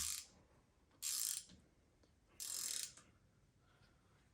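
A ratchet with an Allen socket tightens differential cover bolts, its bursts of rapid clicking coming close and loud in three separate runs with quieter pauses between them.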